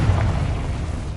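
A Confringo blast spell from Hogwarts Legacy on PS5 goes off as a single dense, low, rumbling burst that fills the short moment at steady loudness, with no talking.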